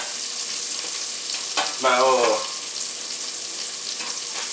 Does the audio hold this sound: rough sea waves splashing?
no